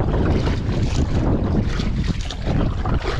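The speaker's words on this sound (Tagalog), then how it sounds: "Lakas pa hangin." Strong wind roars and buffets the microphone in a loud, continuous rumble, with a hint of water splashing beneath it, at a snakehead fishing spot by C6 Road, Taguig.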